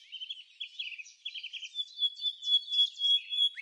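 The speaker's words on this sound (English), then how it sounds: "That's the Bahama Mockingbird, the island's one-bird orchestra and expert impressionist." A Bahama Mockingbird sings close by in a quiet setting, running through rapid, varied phrases of chirps, trills and clear whistled notes with only short breaks between them.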